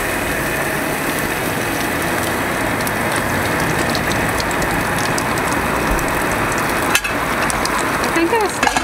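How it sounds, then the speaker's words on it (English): A steak grills on a CharBroil portable tabletop propane gas grill with a loud, steady, dense sizzle throughout, close up, with a few faint clicks and scrapes near the end. "Live action grilling."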